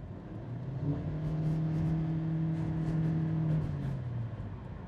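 A 2019 Toyota Fielder WXB Hybrid accelerating, with a steady engine drone that rises in pitch and holds, fairly close and moderately loud, running alone without talk for about five seconds.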